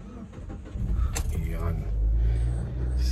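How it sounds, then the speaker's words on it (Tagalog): A car engine starts on a foggy morning, a low rumble swelling after a short crank and settling into a steady idle, close by, with a faint jangle of keys and someone talking. "Start your engine."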